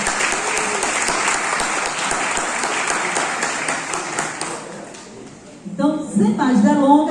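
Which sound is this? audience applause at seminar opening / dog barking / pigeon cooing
audience applause at seminar opening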